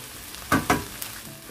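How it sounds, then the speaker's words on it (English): Washed egusi melon seeds are stirred while drying, giving two quick scraping rustles close by, then a faint third touch, otherwise quiet. "I'll be stirring it until it's dried, okay?"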